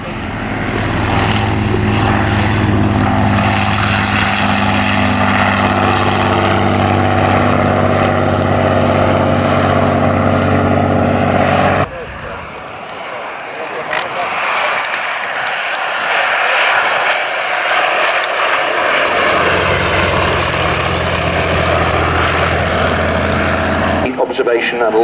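Propeller aircraft at an Old Warden flying day landing in a gusty crosswind, its engine droning loud and steady, fading lower mid-way then building again, with a commentator talking over it.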